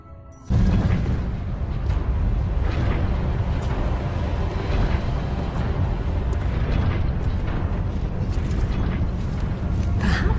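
An ancient gate in Tomb Raider Underworld is unbolted and opened: after a brief quiet start, a loud, sustained grinding rumble with creaking mechanical strain continues for about ten seconds.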